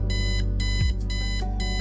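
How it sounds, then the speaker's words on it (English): An alarm clock rings loudly in the Kathy Rain video game, a harsh repeating beep in four rapid bursts over a droning musical backing. "Don't you just hate it when the alarm goes off in the morning?"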